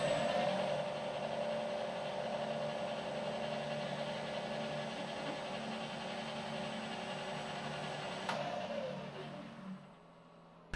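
A Cobalt HSS 9.5mm stub drill and then a countersink cutting aluminium plate on a Bridgeport mill, a steady loud whir of spindle and cutting noise that holds evenly before winding down and going quiet near the end.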